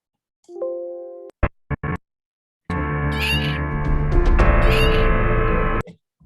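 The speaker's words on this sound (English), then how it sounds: "turn that meow sound down if it's too loud" A cat meows in a short tonal cry, followed by a few sharp clicks, then a long, loud, dense stretch of noisy sound carrying faint meow-like tones.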